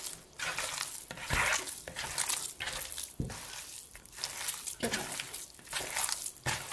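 Bare hands knead minced beef and pork with eggs in a bowl, giving close, wet squelching and slapping in uneven rhythmic pulses, with no talking.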